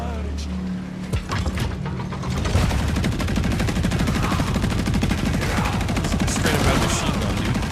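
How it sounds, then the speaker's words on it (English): Rapid machine gun bursts in a video game, a dense crackling stream of shots that starts after a quieter mechanical lead-in and stays loud and continuous to the end. "Straight up out of machine gun, dude."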